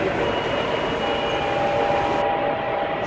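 Steady rumble of a passenger train running, continuous broadband rail noise with a faint whine, close and fairly loud throughout, no voices.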